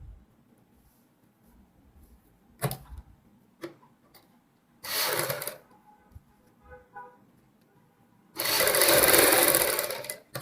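Sewing machine stitching lace onto a kurti neckline in a curved line, heard as two short bursts of whirring, the longer and louder at the end, with small clicks and handling sounds between.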